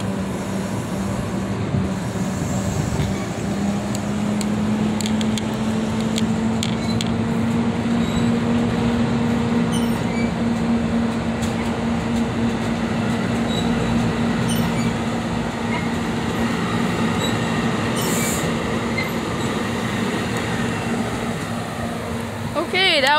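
NJ Transit train 5527, with a veterans heritage locomotive, departs Bound Brook station, a loud continuous rumble and engine drone with a rising tonal whine that holds steady throughout, with a brief horn-like burst near the end.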